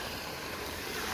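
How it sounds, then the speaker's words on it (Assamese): Water pours down at Shillong's eco park in Meghalaya, a dense, steady rushing roar with no breaks throughout the short stretch. "পানী পৰি আছে।"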